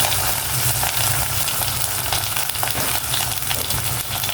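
Laksa paste sautéing in a hot pan for a bitter gourd laksa soup, a continuous loud sizzle and crackle of frying with faint stirring, no voices.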